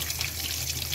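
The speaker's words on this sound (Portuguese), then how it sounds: "já tô com a torneira aqui ligada" Tap water runs in a steady, close trickle while chives are rinsed under it, a continuous hissing pour with no talking.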